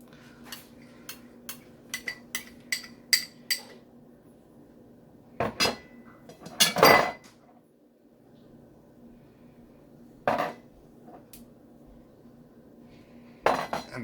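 A utensil clinks and taps against a bowl while mayonnaise ingredients for an egg sandwich are mixed, a quick run of light knocks early on, then sparse louder scrapes and clatters with quiet gaps between.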